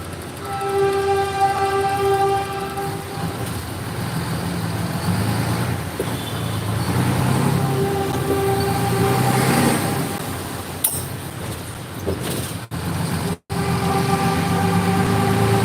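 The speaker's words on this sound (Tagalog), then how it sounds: "Train." A train passes close by on a road near Manila, a loud continuous rumble and clatter of railcars lasting throughout, with a few sharp knocks near the end.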